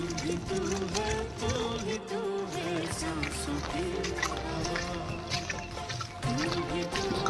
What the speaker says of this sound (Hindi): पूरा पानी हमारे घर में जा रहा है।